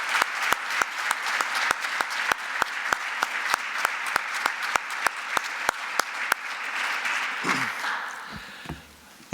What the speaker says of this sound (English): So please help me in join a big round of applause for Dennis LeBlanc and all that he did.